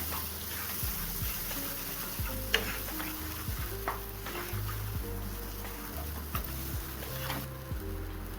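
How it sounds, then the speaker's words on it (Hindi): Mixed vegetable handi masala frying in oil while a spoon stirs it steadily, a continuous close sizzle broken by repeated scraping strokes and soft clinks against the pan, with no talking. "और इसे ऑयल सेपरेट होने तक इसे भून लेंगे अच्छे से"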